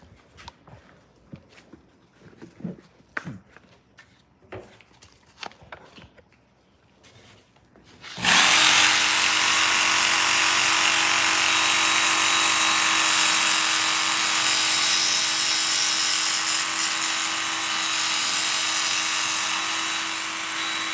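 A knife-sharpening machine grinds a knife blade in one loud, continuous whine that starts abruptly after several quiet handling clicks and taps, staying close and steady to the end.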